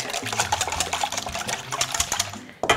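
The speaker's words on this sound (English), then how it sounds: "I'm going to add the milk. Give that a nice whisk." Cold milk is whisked in a bowl, giving a fast, rhythmic clatter and slosh of the whisk against the bowl, close and fairly loud, with brief pauses and a knock at the end.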